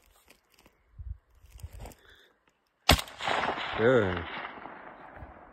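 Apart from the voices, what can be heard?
AK-47 rifle shooting outdoors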